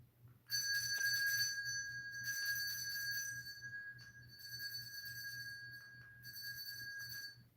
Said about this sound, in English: I had to ring the bell.